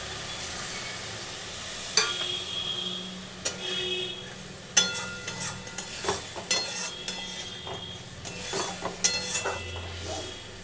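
Egg curry masala sizzling and frying in a pan as a little water goes in, with stirring and scattered clinks of a utensil against the pot, steady crackle underneath, fairly close.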